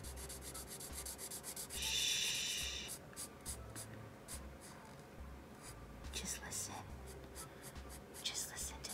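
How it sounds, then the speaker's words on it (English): Felt-tip marker scratching and rubbing across paper during a coloring session, close and soft with short strokes and a louder burst of rapid scribbling, with quiet speech and whisper-like rustle around it. "Just listen to the sound of the marker going down on the page."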